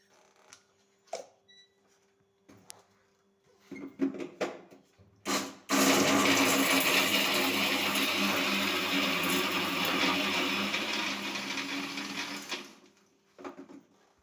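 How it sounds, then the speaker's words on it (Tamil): A kitchen mixer grinder grinds coconut, chili, garlic, rice and roasted gram into thuvaiyal chutney, roaring loudly and steadily for about seven seconds after a few clinks and handling sounds, then cutting off. "அதுக்கு ஒரு துவையல் அரைக்க போகிறேன்"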